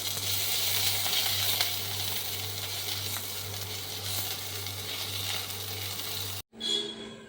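Minced ginger and garlic frying with onions in a pan, a steady crackling sizzle under a low hum that cuts off abruptly, then returns briefly with a short clatter.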